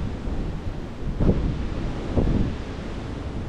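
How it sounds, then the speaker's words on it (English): Wind blows across a microphone on the Appalachian Trail on a morning before a storm, a continuous rumbling buffet with two stronger gusts, no voices. "It's kind of windy this morning."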